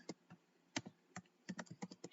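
Someone types HTML tags on a computer keyboard, roughly a dozen crisp, close keystrokes in quick irregular bursts.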